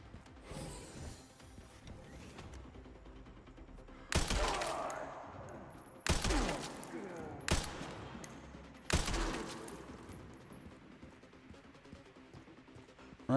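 Sniper rifle shots in the video game Resident Evil Requiem come as four loud, widely spaced cracks, each trailing off in a short echo over low ambient game sound.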